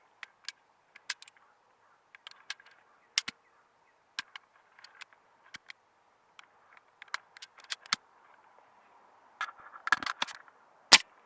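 Valken M17 air pistol charged to 200 bar firing steel balls, heard as sparse sharp clicks and snaps scattered across a quiet background, with a denser cluster of impacts near the end and one loud final crack.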